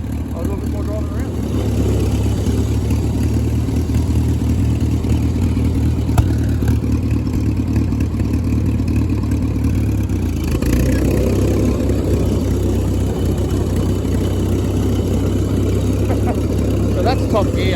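An 87-year-old tractor engine runs steadily while being driven, a loud, low, continuous drone with a slight shift in pitch midway, and a person speaks over it.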